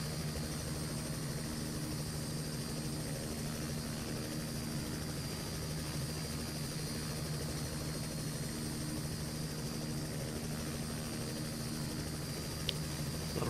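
A Robinson utility helicopter cruising in Flight Simulator X, a continuous steady drone of engine and rotor with a constant hum and whine, even and unbroken throughout.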